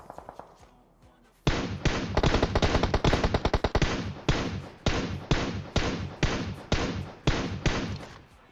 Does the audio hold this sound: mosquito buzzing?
no